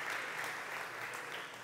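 A church congregation applauds during a Sunday service, a dense, steady wash of clapping that holds at an even level throughout with no voices standing out.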